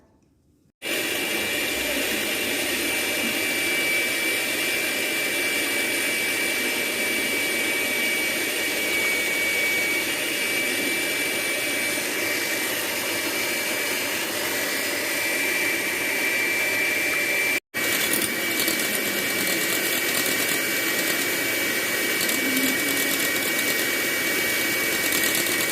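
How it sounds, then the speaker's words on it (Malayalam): An electric beater whips eggs with vanilla essence and a pinch of salt for cake pops, a loud steady motor whine running continuously close up with one brief cut near the end. "ഇനി നമുക്ക് ബീറ്റ് ചെയ്തെടുക്കാം."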